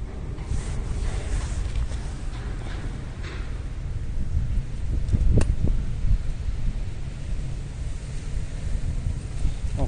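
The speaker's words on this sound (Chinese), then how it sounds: "八九点起风之后这个风就会变很强" Strong wind at the Danjiang Bridge construction site, near the main pylon, buffets the microphone with a steady, low, rumbling roar that swells in a gust partway through.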